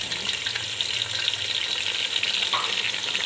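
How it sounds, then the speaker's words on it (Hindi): Garlic being stirred into a mango pickle mixture, a steady close-up wet churning and faint sizzle-like rustle running continuously without any voices. "ये सारी चीज़ें ऐड करने के बाद हम इसको हल्का सा मिक्स करेंगे।"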